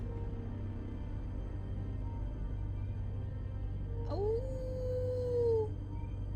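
A wolf howls in a forest, a faint distant sliding cry rising then falling over a few seconds, set against steady low background noise.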